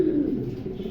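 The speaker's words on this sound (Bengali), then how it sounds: "অনেক বিগ সাইজের কবুতর, খুবই কোয়ালিটিফুল" Large, high-quality pom pigeons coo steadily in a low, throaty murmur, close and continuous throughout with no talking.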